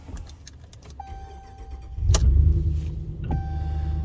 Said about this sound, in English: It starts right up. Engine sounds healthy.